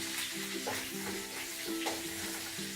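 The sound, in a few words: onion sautéing in a wok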